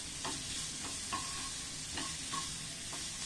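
A spoon stirs masala mixture in a pan for a paneer mayo roll, with repeated scraping strokes at a loose rhythm over a soft steady sizzle.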